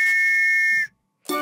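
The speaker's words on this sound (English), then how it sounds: "Choo-choo, the train goes." A cartoon-style train whistle from a children's vehicle song sounds as one loud, steady tone lasting under a second, cut off sharply, then a second bright blast begins after a short silence.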